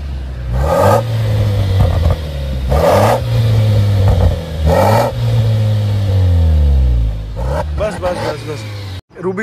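A 2023 Jeep Wrangler Rubicon with an aftermarket exhaust idles with a deep rumble, then is revved hard three times, each rev rising and falling back, loud and close before cutting off abruptly.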